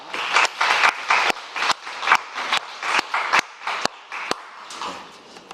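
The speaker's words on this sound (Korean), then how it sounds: "하나님께 영광의 박수를 드립니다" Sparse, uneven clapping from a church congregation during a Sunday worship service, a few loud individual claps standing out over a thin patter that fades toward the end, no one speaking.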